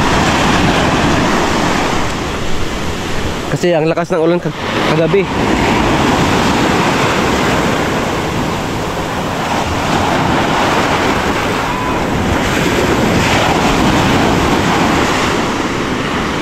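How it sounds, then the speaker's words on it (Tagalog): Strong sea waves crash and wash continuously onto the shore in a loud, steady roar, close by, with wind noise and a brief bit of talk over the surf. "Medyo malakas yung alon ngayon"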